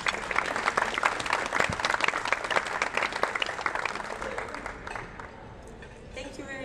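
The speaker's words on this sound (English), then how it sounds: "Please join me in giving them a round of applause." Lively applause from a luncheon audience at the IAC 2018 diversity event, with crisp, close claps over a crowd, tapering off after about five seconds as a voice briefly starts speaking.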